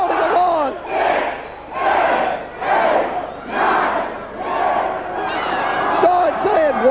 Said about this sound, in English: The crowd counting along.